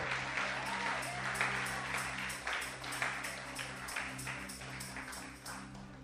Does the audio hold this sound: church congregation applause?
yes